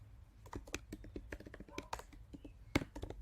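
Python code goes in on a computer keyboard in a steady run of close, light key taps with small pauses, plus an occasional heavier thump and a few quiet mouth sounds, with no words.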